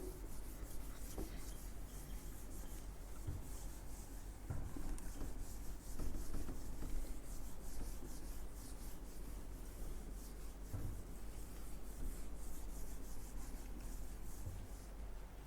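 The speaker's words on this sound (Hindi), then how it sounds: "मैं इसको एक बार रब कर देता हूं" Something is rubbed clean with continuous, quiet scraping and wiping strokes that go on steadily and close by, with no voices.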